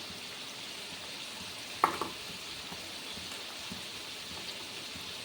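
Taro leaves fry in a pan with a soft, steady sizzle and a brief clink of the stirring utensil, quiet and close, with no voices.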